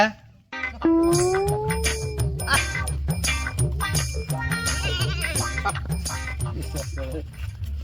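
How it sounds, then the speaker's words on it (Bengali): A goat bleats loudly nearby, one long wavering cry, then keeps calling under busy background voices and rhythmic thumping. "ছাগলটা তাজা চুজা আছে রে"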